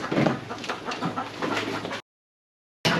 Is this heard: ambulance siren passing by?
no